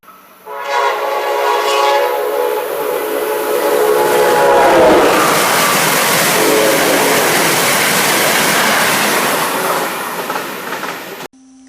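A northbound Amtrak Acela high-speed train led by power car 650 sounds a loud horn on approach, then roars past close by with a sustained rushing rumble before cutting off abruptly.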